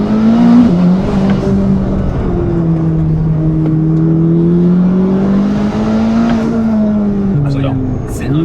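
A car accelerating with a smooth, linear engine note, the tone rising and holding across several gear stages, heard from inside the cabin with a person talking over it.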